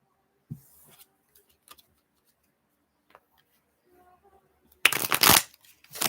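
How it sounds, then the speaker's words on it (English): A deck of cards is riffle-shuffled in one loud, close, rapid burst of fluttering clicks, after a few soft handling taps in near silence. "I'm going to shuffle 3 times"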